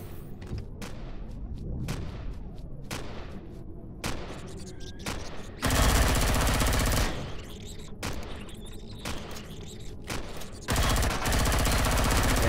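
Assault rifle fire in the sci-fi survival game Empyrion Galactic Survival, with sharp single shots and short bursts ringing out across the first half, followed by two sustained loud automatic volleys.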